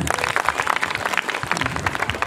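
Brief burst of applause at a school Maulid Nabi gathering welcoming a visiting cleric, a crowd of hands clapping in quick, uneven bursts for about two seconds.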